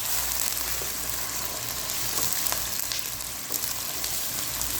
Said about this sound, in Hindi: तो मैं अब चिकन को अच्छे तरीके से फ्राई करूँगी इसमें।